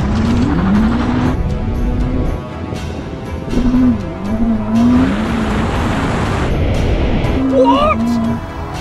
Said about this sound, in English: Sitting in a Ferrari SF90 Stradale, and I'm gonna have a drag race against the new Rimac Nevera.